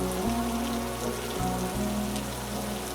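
Steady rain falling on a town, a dense even patter of drops on hard surfaces close by, continuous and alone with no voices.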